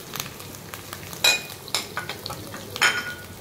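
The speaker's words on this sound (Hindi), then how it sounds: "अब हम इसमें डालेंगे लहसुन का पेस्ट," Garlic paste fries with light-brown onions in a pan as a spoon stirs, producing a continuous close sizzle broken by several sharp scraping and clinking strokes.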